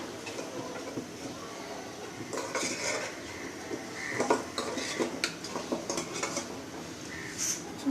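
A metal spoon clinks and scrapes against a pan of heated mustard oil, a string of light, irregular taps and scrapes close by over a faint background hiss.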